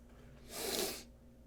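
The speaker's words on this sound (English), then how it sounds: "Sorry for sniffling." A single close, faint sniffle from a person, one brief airy intake through the nose in an otherwise quiet room.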